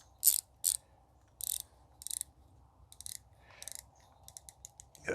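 Ratcheting clicks from tightening an accessory mount on a Ride1Up Café Cruiser e-bike, coming in short separated bursts that get quicker and fainter toward the end, close up with no talking.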